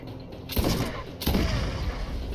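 Two heavy shotgun blasts in Borderlands, about three quarters of a second apart, close and booming over continuous game noise.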